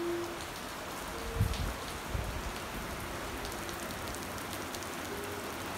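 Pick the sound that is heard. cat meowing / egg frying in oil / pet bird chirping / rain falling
rain falling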